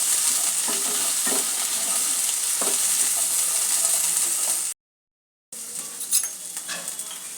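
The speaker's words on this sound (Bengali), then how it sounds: "ছোলা আর আলুটা একটু ভেজে নেব" Boiled potato and chickpeas fry in a pan with a bright, continuous sizzle and occasional stirring scrapes, broken by a brief silent cut before the frying resumes close and loud.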